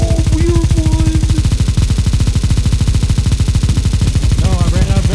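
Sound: gunfire in the video game Counter-Strike

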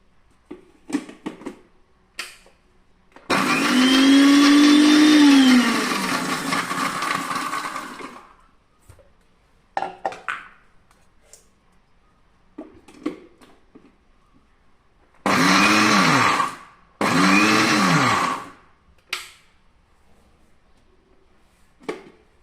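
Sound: mixer crushing onion, garlic, green chili and curry leaves

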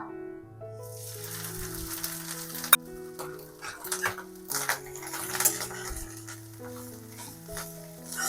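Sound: shrimp frying in a pan (kadai)

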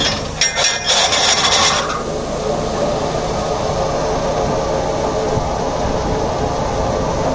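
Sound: Deutz-Fahr Agrolux 80 tractor PTO running Maschio shredder

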